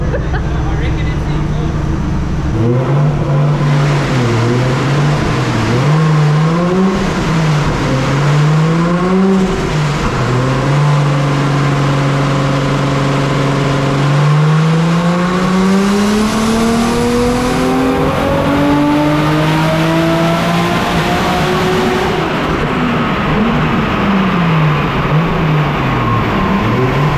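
A Nissan A31 Cefiro engine revs hard on a dyno, its loud, strained note climbing steadily in pitch over several long pulls, with voices talking underneath.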